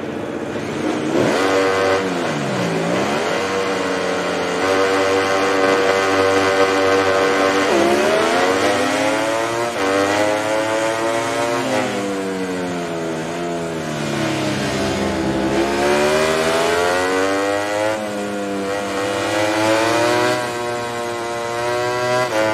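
MotoGP 19 motorcycles rev on the grid at the Aragon track before the race start, engine pitch rising and falling in repeated sweeping waves, loud and sustained with several bikes layered together.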